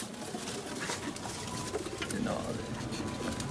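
Sialkoti pigeons coo in a loft with a steady bed of background noise and a faint voice, the low murmuring calls blending into the constant hiss.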